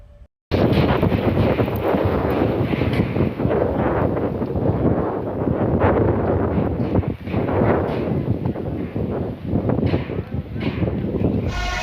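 Strong pre-rain wind in Valsad roars and buffets the microphone nonstop, a loud, rough rumble that barely lets up for the whole stretch.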